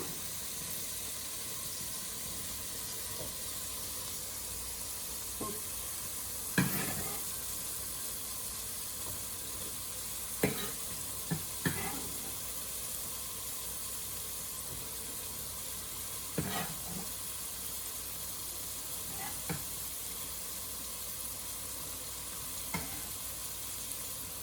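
Onions for a sausage and vegetable ragù sizzle steadily in a pan, with a constant frying hiss broken by a handful of sharp scrapes and knocks as they are stirred now and then.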